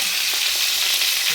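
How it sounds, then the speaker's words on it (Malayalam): Fenugreek seeds splutter in hot oil at the start of a vatta fish curry, a dense, bright, continuous sizzle close by with fine crackling and no voices. "ഉലുവ ഇട്ടു, ഉലുവ ചെറുതായിട്ട് പൊട്ടാൻ തുടങ്ങി."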